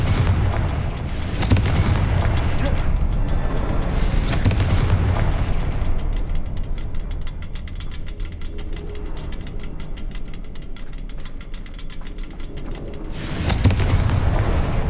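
Confringo fire spell explosions in the Hogwarts Legacy video game: deep booming blasts near the start and end, with a dense rumbling, crackling game soundscape sustained loudly in between.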